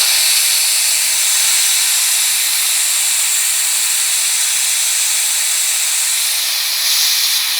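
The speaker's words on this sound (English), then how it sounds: "my vacuum bleeder machine" A vacuum brake bleeder machine pushes brake fluid during service on a Mercedes CLS 250 CDI Shooting Brake, producing a loud, continuous airy hiss that holds steady throughout.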